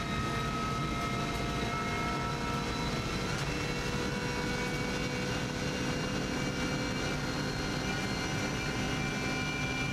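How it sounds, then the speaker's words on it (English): A steady airborne engine drone, most likely a helicopter overhead during a record lap of the Isle of Man TT course, sits over constant loud road and engine noise for the whole stretch, with no talking. "Helicopter always comes into sight here, you can see that above."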